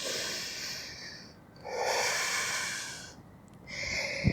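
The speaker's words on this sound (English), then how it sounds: "We're gonna stay here for one deep inhale and exhale." Deep breaths during a fast-paced cardio yoga flow, two long airy inhale-exhale swells close to the microphone, breathy and hissing, with no talking.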